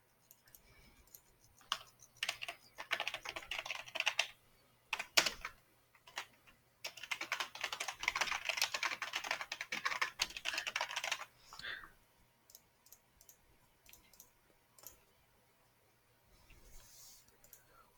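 Rapid typing on a computer keyboard while logging short-trade targets, with bursts of close, crisp key clicks, some dense stretches and some sparse, and brief pauses between runs.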